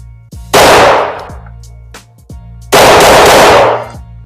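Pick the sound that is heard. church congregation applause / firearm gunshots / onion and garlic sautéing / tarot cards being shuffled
firearm gunshots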